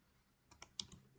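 A short burst of typing on a computer keyboard as a MySQL command is entered: four quick, crisp key clicks, faint and close, with near silence around them.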